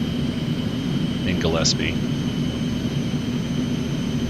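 An Aerobask Eclipse 550 jet taxis in the X-Plane 11 flight simulator, giving a steady, even engine whine, while someone talks briefly over it.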